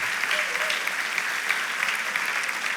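A church audience gives a round of applause for an actor, a steady even wash of many hands clapping at moderate volume throughout.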